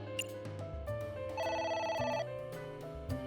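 A phone rings in the Ai: The Somnium Files video game, a melodic electronic ringtone with repeating tones playing steadily at moderate volume, without talk over it.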